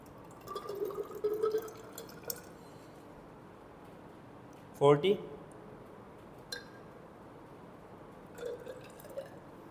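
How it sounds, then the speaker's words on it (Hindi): Water is poured into a glass measuring cylinder during a physics class demonstration, giving a faint, brief trickle and clink in a quiet room, with soft speech before and after. "इस मेजरिंग सिलेंडर के अंदर इस पानी को पोर कर देते हैं"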